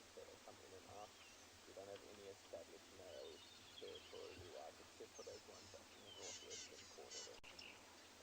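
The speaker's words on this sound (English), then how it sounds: "You can probably hear a number of birds flittering around us and calling." Birds flit and call around a safari vehicle in the South African bush, with southern black tits and rattling cisticolas among them: scattered chirps and whistles at moderate distance over a steady low rumble, with a voice talking throughout.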